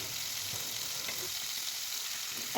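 Bombay duck (lote) fish frying in a pan of hot oil, a steady, even sizzle throughout with faint occasional ticks, close but soft, with no speech.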